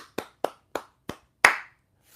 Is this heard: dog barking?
no